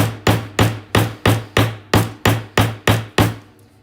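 A wire bracelet is hammered flat with ten steady, evenly spaced metallic blows, loud and close, each strike ringing briefly before the next.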